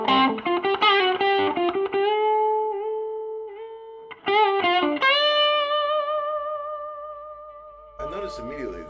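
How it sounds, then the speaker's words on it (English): Electric guitar through the bridge pickup with distortion, a 2024 Veleno Original Legacy model, playing a few quick chords, then long sustained notes ringing out and slowly fading, with a brief noisy scrape at the end. "here's the bridge pickup with a little bit of distortion"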